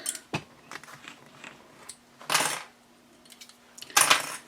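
Sewing clips pulled off handbag fabric, a few sharp little plastic clicks and clatters in short bursts, with two louder rustling handling bursts, close up and with no talking.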